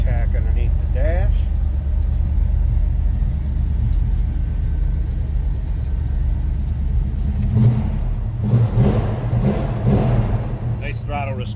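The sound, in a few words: 1974 Plymouth 'Cuda engine revving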